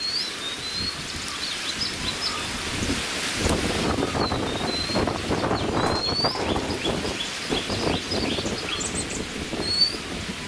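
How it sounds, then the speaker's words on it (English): Strong, steady wind roars and buffets the microphone without a break on a misty, chilly mountaintop morning, with faint bird calls behind it. "Yet another misty, blowing, windy, chilly morning up here on the mountain."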